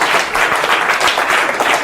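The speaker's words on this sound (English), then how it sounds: "Give her a round of applause, please." Brief burst of audience applause at a mentalism stage show, steady dense clapping throughout, fairly loud and close.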